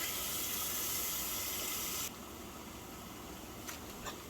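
Tap water runs steadily into a cooking pot to bring kalalou to a boil, a broad gushing hiss that cuts off sharply partway through, leaving quiet room tone with a couple of small clinks.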